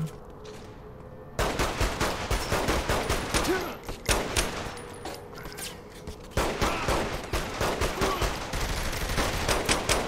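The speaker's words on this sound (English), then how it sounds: "Shooting them probably doesn't help change their mind." Rapid gunfire in Saints Row The Third Remastered crackles in dense bursts after a quieter opening, with sustained automatic shots and brief pauses, loud and close throughout.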